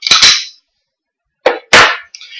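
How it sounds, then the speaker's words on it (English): Dry fire of a firearm at a disassembly session: a couple of quick, sharp mechanical clicks up close, then a pause and two more crisp snaps of the action and trigger, with no talking. "Give her a quick dry fire."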